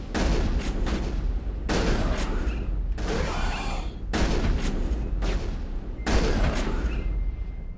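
Shotgun gunfire from the video game Mass Effect, with heavy booming blasts repeating in rapid, irregular bursts, layered with crackling impacts and battle noise, loud and continuous throughout.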